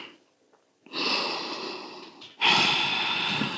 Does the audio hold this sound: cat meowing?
no